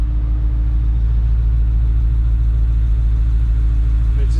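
A 1970 Mercedes-Benz 300SEL 6.3 idles close at the tailpipe, a steady, loud, deep rumble with a meaty lope that holds unbroken throughout.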